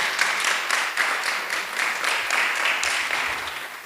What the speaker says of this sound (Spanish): Un aplauso para las edecanes.